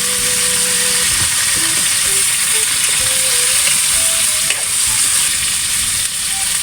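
Kasag crab sautéing in garlic in a pan, a loud steady sizzle and crackle that holds throughout, with a faint tonal hum beneath it.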